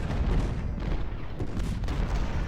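Artillery battery firing in a Battle of Shiloh video game of the 6 April 1862 battle, a dense, continuous rumble of cannon and gunfire booms with no clear gaps, loud and steady throughout.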